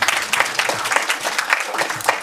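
An audience at a French-language panel presentation applauds a speaker. The clapping is brisk and continuous, with individual claps audible in an uneven rhythm throughout.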